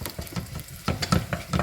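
Shallots and green chillies fry in a pan as turmeric powder is stirred in, giving a steady close sizzle broken by several louder scraping stirs.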